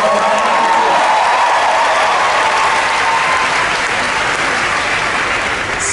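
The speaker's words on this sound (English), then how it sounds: "How about another huge round of applause for them?" An audience at a D23 Expo Disney Parks panel breaks into loud, sustained applause with scattered cheers after a band performance, a thick wall of clapping throughout.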